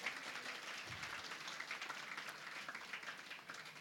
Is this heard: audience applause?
yes